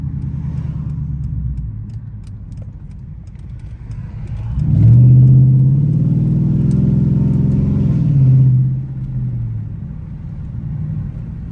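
A Dodge Challenger SRT8 engine rumbles while driving, then swells into a loud, deep rev lasting a few seconds before settling back to a lower drone, heard from inside the car.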